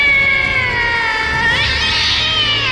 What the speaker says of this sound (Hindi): तो जोर से बिल्ली के रोने की आवाज आने लगी